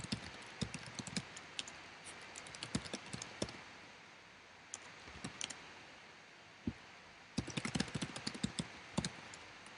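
Computer keyboard keys clatter in uneven bursts of typing, close and fairly quiet, with clusters of rapid clicks broken by short pauses and no talking.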